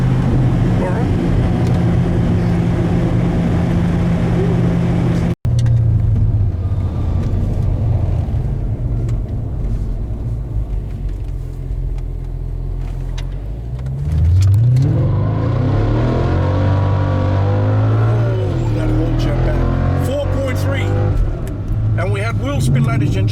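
A car accelerating hard during a 0 to 100 acceleration test, its engine roaring loudly and rising in pitch through the gears, while people talk in the cabin.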